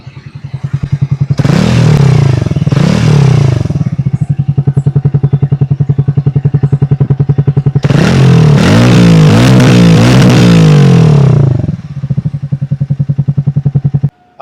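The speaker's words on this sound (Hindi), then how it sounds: "सो गाइस चलिए मैं जल्दी से इसका एग्जॉस्ट आपको सुना देता हूँ" A motorcycle's exhaust idles with a rapid, steady thump, broken by two quick revs and then a longer, louder surge of throttle before it settles back to idle, close and loud.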